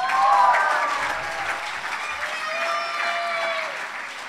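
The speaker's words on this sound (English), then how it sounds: "Please give a warm round of applause for Hagen Elliott." Applause for an award winner at a school senior graduation ceremony, sustained crowd clapping heard throughout, with faint tonal sounds in the background.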